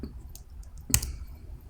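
A single computer keyboard key press clicks sharply once, close and brief, against a quiet room hum with a few faint soft ticks around it, no talking.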